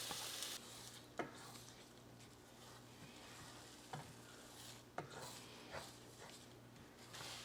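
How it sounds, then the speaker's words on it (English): Eggs scrambling in a skillet with sausage and peppers, a faint steady sizzle under occasional soft taps and scrapes of a utensil against the pan. "I'm gonna go ahead and just scramble my eggs directly in the same skillet"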